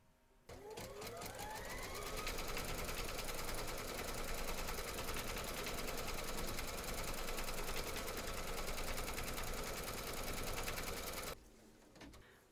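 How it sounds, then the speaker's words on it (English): An embroidery machine stitches the quilting round of an in-the-hoop teddy and unicorn bag, running as a steady, loud, fast mechanical whir with rapid needle ticking for about eleven seconds before stopping abruptly. "you're now going to stitch round number 4,"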